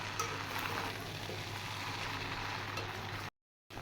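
Chicken chow mein frying in a pan, a steady close sizzle that runs evenly, then cuts to silence just before the end, with no voices.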